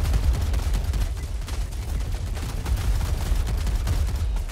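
Gunfire in Helldivers 2, a dense fusillade of rapid weapon shots and booms rattling on continuously, loud and close, with no talk over it.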